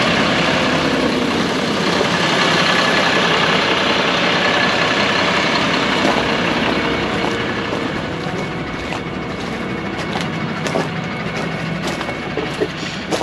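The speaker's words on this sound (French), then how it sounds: "L'ensileuse, elle avance tout doucement." A forage harvester creeps slowly across a five-hectare field, its heavy engine droning loud and continuous, with wind buffeting the microphone throughout.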